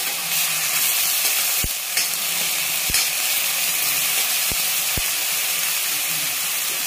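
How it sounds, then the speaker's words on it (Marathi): Onion fries in a pan until it turns pink, giving a dense, even hiss of sizzling oil with a few sharp knocks of a spoon against the pan, loud and close with no voices. "तळून घ्यायचा आहे कांदा."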